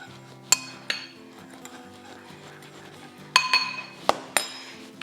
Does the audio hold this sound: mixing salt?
yes